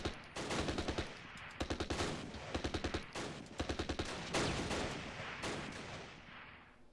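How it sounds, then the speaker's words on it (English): Bren light machine gun firing in the Close Combat war game at Arnhem, loud repeated short bursts of rapid automatic fire with brief pauses between volleys, alongside other distant gunfire. "Lay that Bren gun on them."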